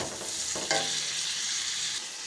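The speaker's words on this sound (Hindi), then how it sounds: "अब हम इसमें अपना चिकन ऐड करेंगे और इसको हम अच्छी तरह फ्राई करेंगे।" Chicken fries with ginger-garlic paste in a pan, giving a dense, even hiss of sizzling with a brief clatter near the start.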